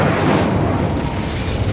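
A loud, dense fiery whoosh and roar as the Incendio fire spell is cast in Hogwarts Legacy, a continuous blast of broadband flame noise without pause.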